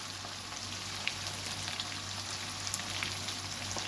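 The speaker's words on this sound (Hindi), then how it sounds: "ये हम ऐड कर देंगे इसके अंदर और इसको जो है ना फ्राई होने देंगे इसके अंदर" Green chilies with spices fry in a pan, giving a steady, soft, even sizzle with occasional small pops, close and fairly quiet, with no talking.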